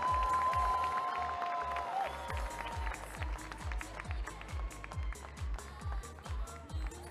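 A crowd cheers and claps at the Calgary Stampede rodeo finals, broad noise from a large audience that swells and fades, heard with repeated rhythmic thumps and a voice calling over it.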